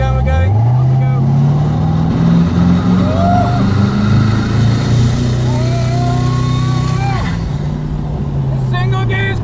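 Koenigsegg Regera hypercar with its single-gear drive pulling away hard, a loud deep engine drone rising steadily in pitch through the run, heard from inside the car with excited talk over it.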